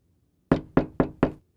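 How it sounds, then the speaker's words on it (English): Four firm knocks on an office door late at night, evenly spaced and loud, with silence before them. "When Ray Beaumont knocks on her office door a little after midnight"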